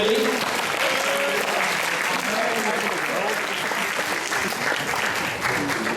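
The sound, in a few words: school assembly applauding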